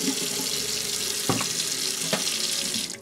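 A faucet runs into a sink with soap, a steady close splash and hiss with a couple of brief knocks or clatters partway through.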